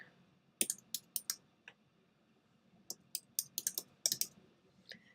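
Keys on a computer keyboard click in short irregular bursts of typing, close and crisp, with quiet gaps between the groups of keystrokes.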